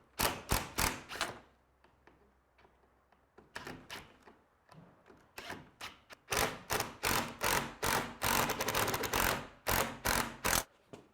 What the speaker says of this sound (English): now that we have the screws removed at the top and the bottom